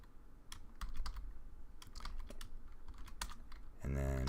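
Keys clatter on a computer keyboard in an irregular burst of clicks, fairly close and clear, as a short word is typed during a Python programming lesson.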